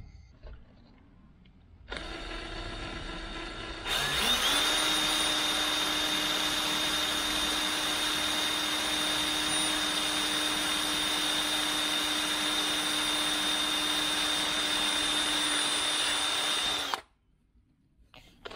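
A power drill bores 5mm holes in a cap, whining at a loud, steady high pitch for about thirteen seconds after a brief lower hum, then stopping abruptly.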